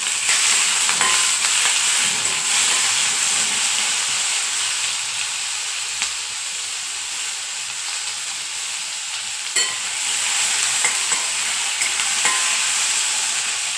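Chopped tomato sizzles and fries in a pan with lightly sautéed onion for a home-style paneer curry, a steady close hiss with occasional stirring scrapes, no talking.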